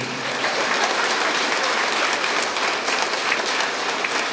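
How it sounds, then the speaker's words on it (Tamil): An audience applauds at a student honoring ceremony, dense continuous clapping from a large crowd, loud and steady throughout with no talk. "கைத்தட்டதுக்கு ரொம்ப நன்றி."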